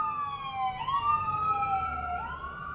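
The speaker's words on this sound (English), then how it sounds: "more sirens" Emergency vehicle sirens wailing outdoors, a loud rising and falling tone that sweeps and overlaps over low traffic rumble, heard alone without speech.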